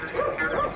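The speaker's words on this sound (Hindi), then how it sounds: "कुत्ते भौंक रहे हैं" Dogs bark at night on a dark, silent path in a Hindi radio comedy play, heard as one brief, close yelping bark.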